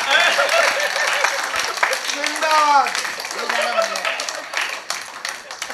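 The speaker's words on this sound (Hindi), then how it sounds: "हाँ देखो कितनी बढ़िया ताली" Audience applause at a Hindi comic poetry show, a burst of clapping with a voice talking over it and then fading toward the end.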